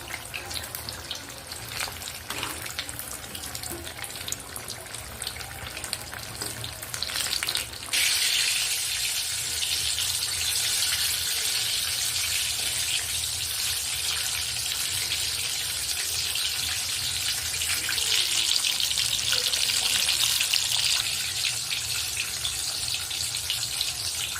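Ghosavla (sponge gourd) bhaji fritters frying in hot oil, a continuous hissing sizzle that grows brighter and louder partway through as the fritters are flipped, steady throughout with no voices.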